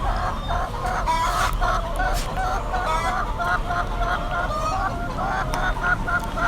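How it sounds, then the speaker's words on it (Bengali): Caged laying hens in an old, worn poultry unit cluck and squawk continuously, a dense chorus of overlapping calls with some louder honking cries, steady throughout and fairly close. "আপনাদের দোয়ায় আমাদের মুরগিগুলা সুস্থ আছে"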